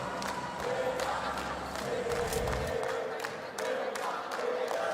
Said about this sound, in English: You can hear the crowd starting to make some noise